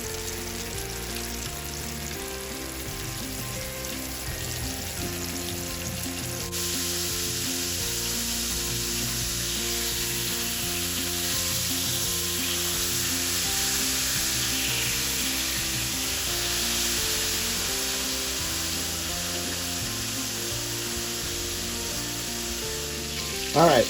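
Cube steak fries in a pan with a steady, close sizzle that holds for the whole stretch, thickening a little partway through, with light stirring and a brief clatter at the very end.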